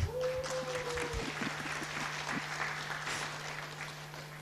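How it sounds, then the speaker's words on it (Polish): Applause from an audience at a talk for school directors, a steady wash of clapping held at even loudness throughout, with a low hum underneath. "Brawa dla nich."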